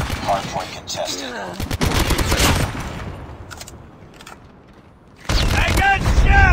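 Gunfire in a Call of Duty multiplayer hardpoint match comes in loud bursts of rapid automatic shots, then a quieter lull, then a heavy renewed barrage, with game voice callouts mixed in.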